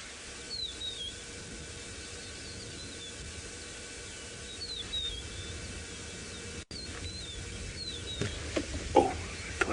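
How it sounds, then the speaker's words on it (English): Rufous-napped larks give short, repeated high chirping calls at dawn on the Maasai Mara savanna, faint and spaced out over a quiet background hiss. "you can hear some of the birds starting. The rufous-napped lark, one of the most common bird calls in the early morning in the Mara."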